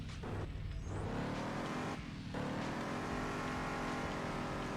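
Car engine roaring steadily while driving and drifting, loud and continuous with shifting pitch, brief dips around gear changes, no talk.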